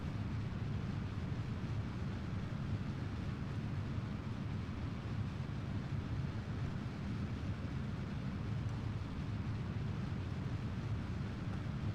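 Rocket engines in Kerbal Space Program throttle up during a transonic ascent, giving a steady, low, broad rumble that holds constant and fairly quiet throughout.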